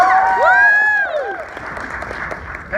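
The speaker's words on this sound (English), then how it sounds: "They cheer me about to get beat up or something." An audience cheers and whoops at a samurai stage act, with loud voices shouting over scattered applause that fades into lighter crowd noise.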